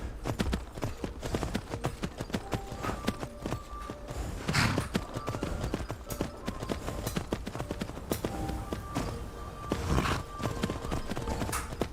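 Horses walking along a road in the video game Skyrim, steady clip-clop hoofbeats close by throughout, with a faint whinny mixed in and no talk.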